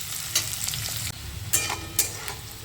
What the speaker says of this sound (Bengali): তো চলো এরপর পেঁয়াজটা একটুখানি ভেজে নিই